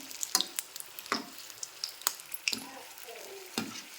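Mirchi bajji fry in hot oil as they are turned, with a soft, low sizzle beneath sharp, intermittent clicks and scrapes of a utensil against the pan, close but fairly quiet.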